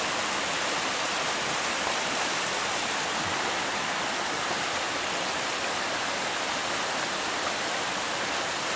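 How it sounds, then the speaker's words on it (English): King's Creek rushes along in a steady, dense broadband roar of flowing water, close and constant throughout with no voices. "This is King's Creek."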